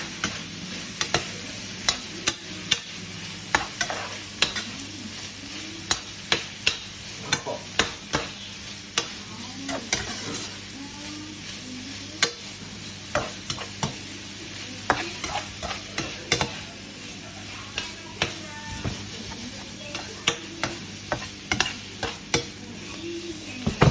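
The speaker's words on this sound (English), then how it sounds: "Swirl it around, making sure that the glaze sticks to the pork, so keep turning it" Pork belly in a soy and honey glaze sizzles steadily in a pan, with frequent clicks and scrapes as the pieces are stirred and turned, close and continuous.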